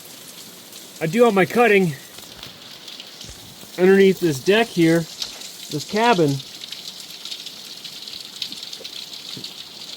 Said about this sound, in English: it won't stop raining on me